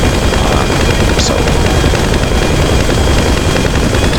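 The Volatol bomber in GTA 5 Online drones steadily in flight, its engines a loud, constant roar with no breaks or voices.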